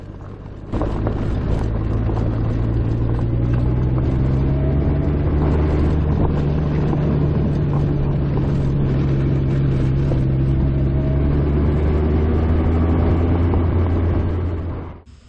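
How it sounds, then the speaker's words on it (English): A 1992 Honda Goldwing GL1500 Aspencade engine drones steadily while riding, with rising and falling pitch as it accelerates, loud and close, fading out at the end. "So I'm on a little excursion on the new-to-me Honda Goldwing."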